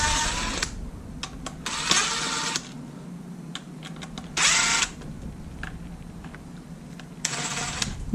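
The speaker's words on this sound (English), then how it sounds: "So I'm gonna take the screws out and see." Screws being backed out of a drain pump removed from a Maytag/Whirlpool washer, with several short whirring bursts of a driver tool separated by ratcheting clicks and handling noise, fairly close and with no talk.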